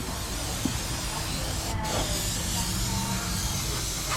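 Brake cleaner sprays from a fresh aerosol can while working on a Mercedes CLK 350, a steady, fairly close hiss running throughout with a brief sharper burst partway through.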